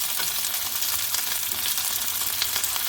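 Beef pieces for Mongolian beef brown in a hot pan, giving a constant close hiss and sizzle with fine crackling and no voices.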